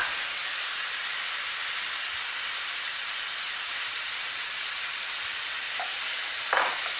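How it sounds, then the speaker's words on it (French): Shrimp spring roll filling with ginger, pepper, salt, soy sauce and Thai hot sauce fries over medium heat in a steady, bright sizzling hiss, with a couple of faint stirring clinks near the end. "je laisse revenir le tout à feu moyen pendant 5 minutes"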